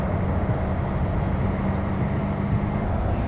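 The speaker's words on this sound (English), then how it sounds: "the cop just slammed his brakes there" A police car braking hard on a road in American Truck Simulator, with a steady loud engine and road rumble and a thin rising-then-falling whine running through it, no talk.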